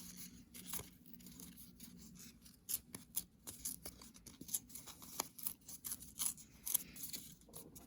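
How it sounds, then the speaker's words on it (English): Pieces of paper being torn by hand into a heart shape, a close, quiet series of short ripping and rustling bursts in an irregular rhythm. "create a heart shape by tearing some pieces of paper"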